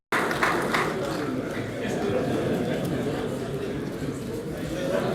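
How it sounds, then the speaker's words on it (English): An audience at a public hearing on the 2020 budget claps for the Speaker of the House of Representatives, a steady, dense round of applause with crowd chatter mixed in that carries on without a break. "I think we can do better with that round of applause for the right honorable Speaker of the House of Representatives."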